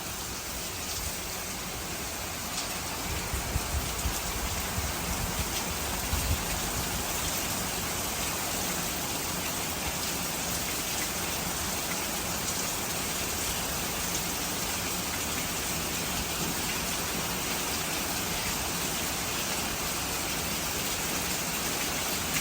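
A steady, heavy downpour hisses without pause, dense and loud throughout, with rain drumming on surfaces and no voices.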